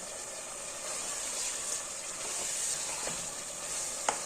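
Onion fries in oil for a street-style chicken karahi, a dense, steady sizzle close up with a few soft stirring knocks, continuous for about four seconds and no talking over it.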